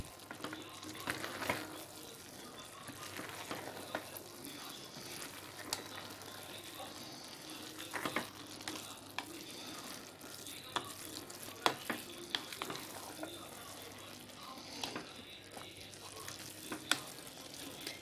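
Rice and vegetables being stirred in ghee for pulao: soft intermittent scraping and clinks over a faint steady sizzle, quiet and close, with occasional sharper knocks of the spoon.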